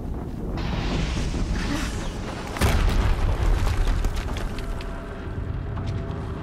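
An explosion rumbles in the video game Horizon Zero Dawn, a loud sudden boom rising over ongoing heavy game noise and leaving a long rumbling tail.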